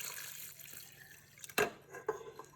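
Water, 500 grams of it, poured into a stand mixer bowl for biga pizza dough, a quiet trickle followed by a couple of sharper splashes near the end.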